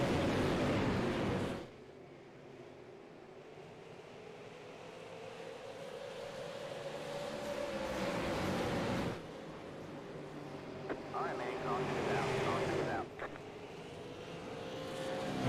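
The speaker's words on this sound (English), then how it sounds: "we'll just let the engines speak here for a second. We'll listen to these guys up around Nashville Fairgrounds." Race car engines roaring around the Nashville Fairgrounds track in iRacing, with droning tones that rise and fall in pitch as the cars pass, moderately loud with no talk.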